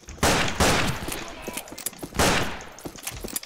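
Pistol gunfire in the Western shooter game Fistful of Frags, several loud separate shots spaced unevenly, with fainter clicks and rattles between them.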